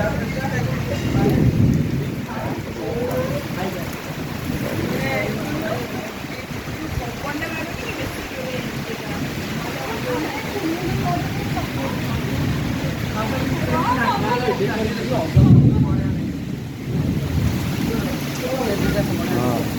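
Steady rain falls at Gundichaghagi waterfall, a dense, continuous hiss and wash of water that holds loud throughout, with people talking over it.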